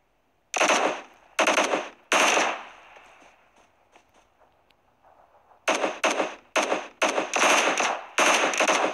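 Gunfire in the video game PUBG: sharp rapid bursts of automatic fire in several clusters, loud and close, separated by a quieter lull with faint distant shots.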